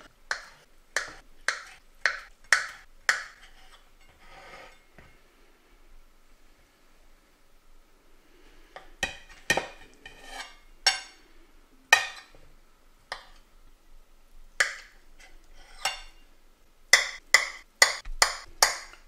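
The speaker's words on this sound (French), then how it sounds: "On va maintenant couper la feta en cubes." Sharp knife chopping a block of feta cheese into cubes on a cutting board, crisp close knocks in quick bursts of several strokes separated by short pauses, with no voice over them.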